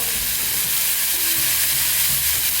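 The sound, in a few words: stir-frying hakka noodles with vegetables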